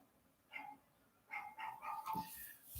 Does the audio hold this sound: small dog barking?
yes